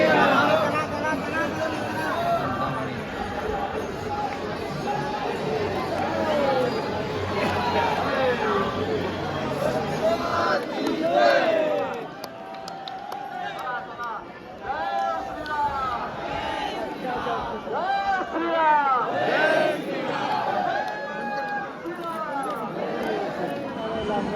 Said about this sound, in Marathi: भरपूर गर्दी आहे